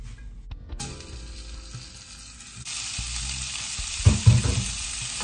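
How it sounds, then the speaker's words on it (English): Sectioned carrots, celery stalks and garlic cloves sizzle steadily in a hot pan, a close, continuous frying hiss that swells partway through with a few brief stirring clatters near the end. "I just sectioned up 2 carrots, 2 stalks of celery, and about 4 to 6 garlic cloves. And we're gonna cook that in here"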